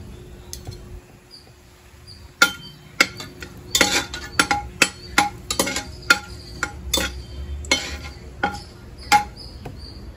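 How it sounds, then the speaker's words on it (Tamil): Ingredients go into hot oil in a home kitchen, with sharp clinks of a metal spoon against the pan and intermittent sizzling bursts over a faint background hum. "எண்ணெய் காஞ்சிடுச்சு. இப்போ இதெல்லாத்தையும் போட்டுருவேன். போட்டு கொஞ்சம் வதங்க."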